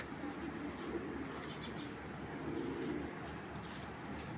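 Imported Belgian racing pigeon with a very short tail cooing softly, a low steady murmur of coos continuing throughout amid faint background hum.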